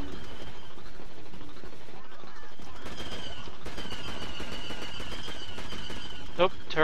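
Blaster gunfire in Star Wars Battlefront 2, Old Republic era mod, a dense continuous barrage of shots and battle noise with a few sharper squealing bolts near the end.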